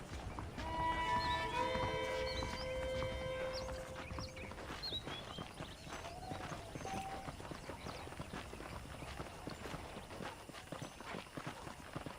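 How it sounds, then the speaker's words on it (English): Horses in Red Dead Redemption clip-clop along at a steady walking pace, with brief tonal musical notes near the start and no talking. "The horses are saddled up over here."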